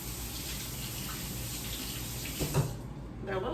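Tap water runs steadily over blackberries being rinsed, a close continuous stream with a brief splashy change near the end.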